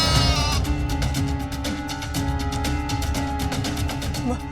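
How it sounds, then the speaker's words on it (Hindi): A goat bleats loudly and close by in a wavering, repeated cry that runs across the whole stretch over steady background music. "ये बकरी न जाने कहां से आ गई और शोर मचा रही है"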